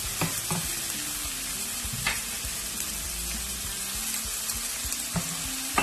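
Chopped ginger and garlic frying in oil in a pan, a constant bright crackling sizzle with a few scattered spatula taps, near and unbroken by any voice.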